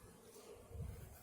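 A swarm of honey bees drones around a backyard hive, a faint, steady low buzz that swells slightly toward the end.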